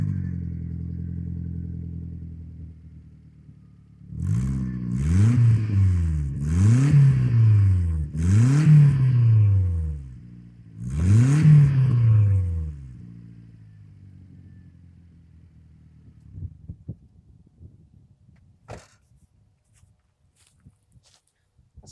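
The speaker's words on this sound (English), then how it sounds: "let's go ahead and do a sound bite of the exhaust so you guys can hear it." A Subaru Sambar Classic Dias van's exhaust idles, then revs up in four quick rising-and-falling bursts with brief idle between, close and moderately loud, before settling back to a low idle and quiet clatter.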